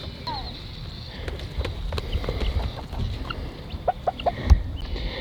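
Meat chickens cluck and chatter in a paddock just after being released, with short clucks rising near the end over low outdoor background noise and a single knock.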